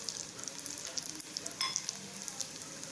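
Coriander seeds, cumin, pepper and chilli crackle lightly in oil, a steady close sizzle dotted with small popping spits, with no voices.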